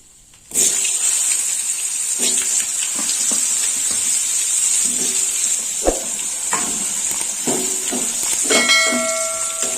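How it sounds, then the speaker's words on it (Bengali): Long strips of pointed gourd (potol) fry in hot oil with a steady, close sizzle. Scattered clinks and small knocks from utensils sound over it, with no talk. "পটলটা ভেজে নেবো"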